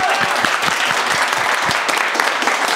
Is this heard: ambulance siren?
no